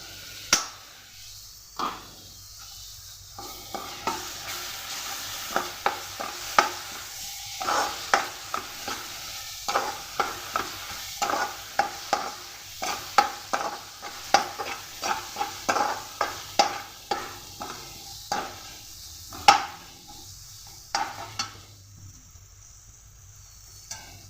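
Ginger paste and coriander go into a chicken curry in a pan, a low sizzle under a long run of sharp stirring scrapes and spoon taps, irregular and close, without speech.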